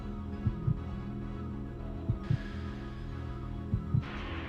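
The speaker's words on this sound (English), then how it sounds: "I don't like the heartbeat." A heartbeat effect from the video game Resident Evil Code Veronica throbs as deep, paired thumps repeating about every one and a half seconds over a low, droning hum.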